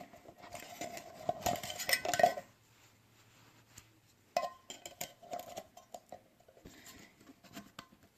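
A Jetboil MiniMo aluminum pot clanks and scrapes as it is fitted and locked onto the camp stove, with close metallic clinks in two bursts separated by a quiet gap, no talking.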